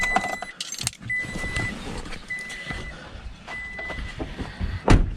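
A 2016-or-later third-generation Toyota Tacoma pickup's 3.5L engine runs with a steady rumble while keys jangle and metallic clicks and rattles come and go nearby.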